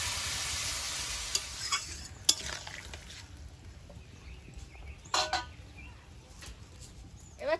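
Water poured into a pan of lightly fried raw mango with salt and turmeric for chutney sets off a loud hiss that gradually dies down, with scattered clinks of a spoon against the pan.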